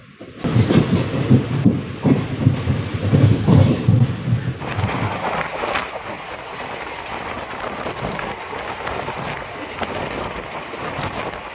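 A train running along the coast toward Rameswaram, heard from on board as a loud rumbling rhythmic clatter that settles into a steady broadband roar of wheels and wind after a few seconds.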